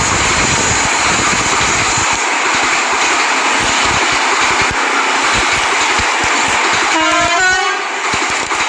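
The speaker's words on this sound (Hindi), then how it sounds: "अब ये देखिए आपने ये ट्रेन कैसे टनल में गई" A train rolls steadily and loudly into a tunnel, a continuous close rumble and roar with a horn-like tonal sounding near the end.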